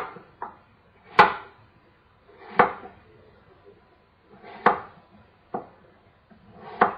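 Knife chopping apples on a cutting board for a French-style apple pie: six crisp chops at irregular intervals, close and fairly loud, with quiet room tone between strokes.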